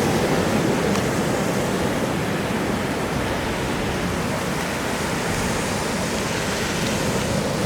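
Ocean surf rolling onto a beach at Newcastle, a steady broadband roar of breaking waves that continues without a break throughout, fairly loud and close, with no voices.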